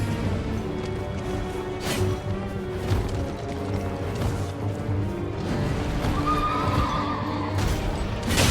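A horse neighs in the video game Elden Ring, a loud whinny over combat sounds with thuds and clattering hooves, the cries rising and falling in short bursts amid steady game noise.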